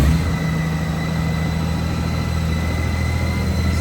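A large motorcycle, weighing about 644 kg with a load, idles steadily after starting, a close, even low rumble with a faint whine above it and no voices.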